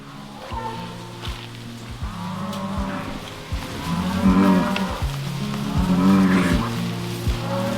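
Cattle moo loudly and repeatedly as they push through an opened farm gate, deep drawn-out calls overlapping close by with a busy outdoor background.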